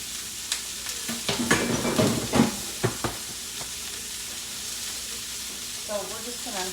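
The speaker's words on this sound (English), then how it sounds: "Anything left is gonna go into this pot as soon as this cabbage kind of cooks down a little bit" Cabbage frying and cooking down in a pot: a steady close sizzle with scraping stir strokes and clatter in the first half, then a quieter simmering hiss, with a voice briefly heard near the end.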